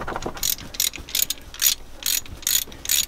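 A socket ratchet loosens a painted-in-place bolt on the cylinder head of a Northern Lights 12 kW genset, making about seven loud, close bursts of rapid clicking, evenly spaced with brief gaps between.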